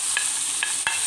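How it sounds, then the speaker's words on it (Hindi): Onion sizzles steadily in hot oil with cinnamon and bay leaf for a lauki kofta curry, a continuous bright frying hiss broken by a few short stirring scrapes. "और कुछ सेकेंड्स बाद ये प्याज इसमें डाल देते हैं"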